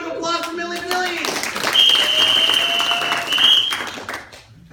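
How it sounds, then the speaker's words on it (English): Applause and clapping break out from the audience at an improv comedy graduation show, mixed with voices and a high whooping cheer, loud and lively before trailing off. "Round of applause for Millie Vanilli!"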